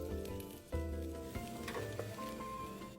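Fish wontons deep-frying in hot oil, a quiet continuous sizzle and bubble broken by a few soft clinks and knocks as they are turned, with a music bed in the background.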